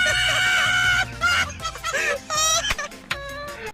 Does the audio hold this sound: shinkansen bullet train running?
no